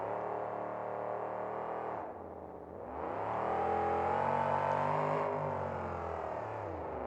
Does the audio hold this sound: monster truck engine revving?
yes